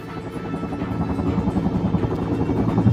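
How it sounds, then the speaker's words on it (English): A helicopter in the Sniper Ghost Warrior 3 video game thumps steadily with pulsing rotor beats, growing louder as it approaches, with no talk over it. "Chopper has visual on the dam."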